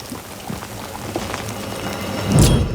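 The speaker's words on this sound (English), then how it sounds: "I love how they're keeping the sound of the rain in." Rain pouring in a TV drama scene, a continuous wash of falling water with a louder surge or rumble near the end, no speech over it.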